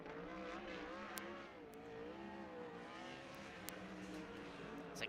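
The number 7 dirt track race car on a qualifying lap, its engine revving steadily and rising and falling in pitch as it works the corners, heard from a distance and fairly faint.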